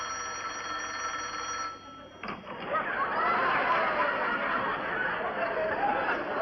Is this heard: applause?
no